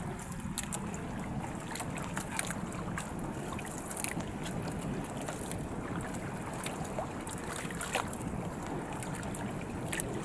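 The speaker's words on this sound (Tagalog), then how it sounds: "hangin at alon guys oh." Steady wind rushes over the microphone amid the wash of sea water against a small fishing boat at sea, a constant rough noise with occasional sharp splashes.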